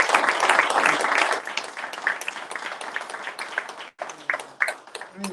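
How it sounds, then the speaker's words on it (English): Audience applause for presenters at a Black business economic forum, moderate clapping from a room that thins out after the first second or so into scattered claps, with a brief break midway. "Let's give all our presenters a round of applause."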